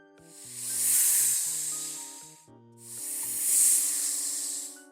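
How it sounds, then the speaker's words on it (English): A snake's hiss in two long, loud breathy bursts with a short gap between them, over faint background tones. "Here's what a snake hiss sounds like though."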